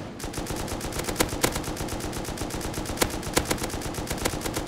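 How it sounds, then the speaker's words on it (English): Rapid automatic gunfire with explosive ammo in the survival game Rust, a dense continuous stream of shots with a few louder cracks, close and sustained, no talk. "explosive ammo definitely does damage around like 400 to 450 or so shots of actual hits seem to be doing it"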